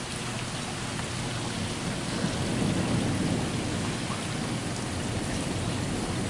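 Steady heavy rain pours down in a dense, continuous hiss, with a low rumble of thunder swelling in the middle; no voices.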